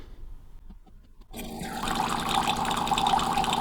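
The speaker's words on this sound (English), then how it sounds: "we're just going to push some hot water through it" Hot water gushes from the steam wand of a Delonghi Magnifica Start espresso machine, starting abruptly after a quiet moment and continuing as a loud, steady hissing rush close by.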